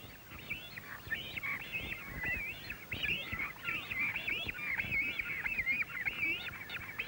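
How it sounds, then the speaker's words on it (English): Young cormorants squawk in a hot nesting colony, a dense, continuous chorus of harsh, honking calls from many birds overlapping steadily throughout, fairly close and moderately loud with no talking. "the young spend all day squawking and panting in the heat, waiting for their parents to return with food."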